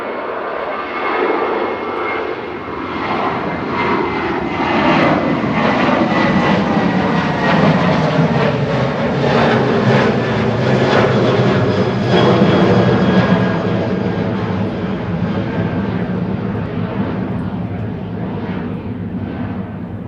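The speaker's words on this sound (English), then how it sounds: "Heading off to Paris, Charles de Gaulle, ASL Airlines. The 737-800 GOHJK." An ASL Airlines Boeing 737-800 jet departs Manchester Airport, its engine roar loud and steady for the full twenty seconds, with broadband rushing noise swelling slightly in the middle and no talk over it.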